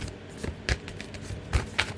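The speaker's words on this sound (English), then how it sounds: "let's get a good shuffle" A deck of tarot cards is shuffled by hand, giving soft, irregular riffling and slapping bursts, close and fairly quiet, with no talk.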